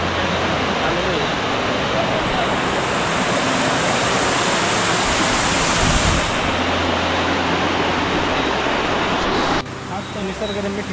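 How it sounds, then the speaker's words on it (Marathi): Waterfall at Badlapur roars as a dense, steady wash of falling water, loud and close throughout with no letup. "हाच तो धबधबा"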